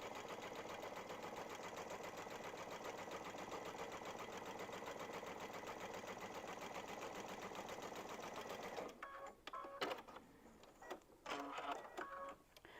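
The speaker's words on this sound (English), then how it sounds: "we're just going to sew these strips down" A sewing machine stitches fabric strips for an ornament potholder, running in a fast steady mechanical rattle for about nine seconds, then stopping and starting in short bursts, close and clear.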